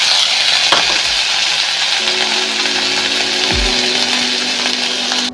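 Food being stirred and fried in a pan after flour, salt and turmeric are added: a steady loud sizzle runs throughout, with scraping stirs near the start and a brief low knock near the end.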